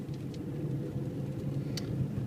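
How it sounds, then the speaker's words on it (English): Steady low road rumble from cars and a large truck passing on the I-90 interstate, a continuous drone heard from nearby without any talk. "some cars going by, like that big truck, that's I-90"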